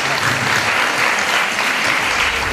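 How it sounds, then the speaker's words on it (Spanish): A crowd at a fragrance launch event applauds in a loud, dense, continuous wash of clapping that holds steady throughout the short stretch. "Un fuerte aplauso."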